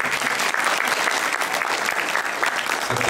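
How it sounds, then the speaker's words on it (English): Loud, dense audience applause at a tabla concert, many hands clapping steadily without pause. "big round of applause for Satyanji"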